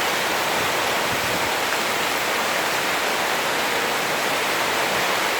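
Heavy rain pours down in Surabaya as a dense, constant roar of water, loud and unbroken throughout with no voices.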